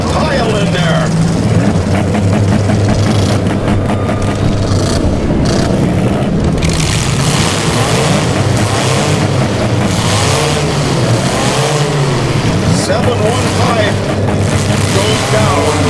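Powder puff class race cars roar around a short track in a crowded heat, engines droning steadily and loud throughout with a commentator talking over them.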